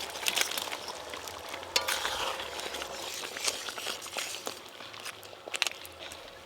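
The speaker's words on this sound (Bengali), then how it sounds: "মালাইকারির জন্য ঝোলটা ফুটে গেছে, ভেজে রাখা চিংড়ি মাছগুলো দিয়ে দেব।" Fried prawns go into a boiling malai curry gravy, producing a continuous bubbling sizzle with scattered clicks and spoon scrapes, fairly close and steady throughout.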